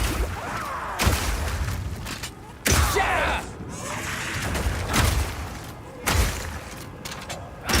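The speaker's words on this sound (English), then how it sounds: "Shooting a frozen enemy with Armor Piercing Burst Shot will explode the ice, doing a huge amount of damage to all nearby enemies." Frozen enemies shattering as a crossbow's Armor Piercing Burst Shot breaks the ice in Path of Exile 2, giving four heavy booming thuds spaced about a second or more apart, each with a crackling burst over ongoing combat noise.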